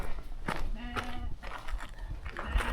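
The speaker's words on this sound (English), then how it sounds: "Hi, sheep." Sheep out in open Scottish countryside on a hiking trail, with a few bleats and calls at moderate distance over wind and the rustle of walking.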